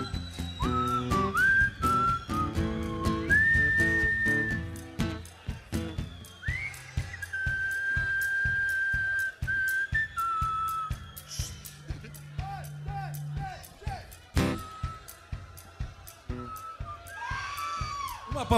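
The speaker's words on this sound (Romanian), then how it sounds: "Hai să vedem dacă știți să fluierați." An audience at a live event whistles together, with many shrill, sustained and sliding whistles overlapping in a loud, uneven chorus, broken by sharp claps and crowd noise.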